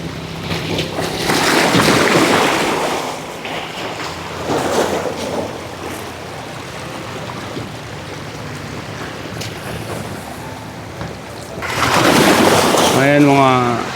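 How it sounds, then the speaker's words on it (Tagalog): Ocean waves wash and surge steadily with wind buffeting the microphone, swelling louder at moments, and a voice speaks briefly near the end. "Pakinggan mo yung ingay ng alon."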